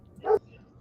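A dog gives one short, high whine or yip lasting a fraction of a second, fairly near, over a quiet background.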